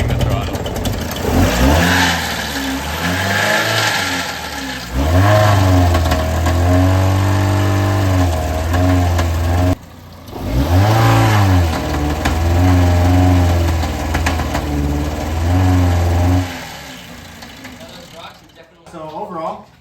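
A car running on a Dr Pepper and barbecue sauce fuel additive, its engine revved repeatedly in loud rising and falling surges with brief idle dips between pumps of the throttle, close by.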